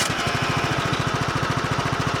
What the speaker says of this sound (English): then you turn the ignition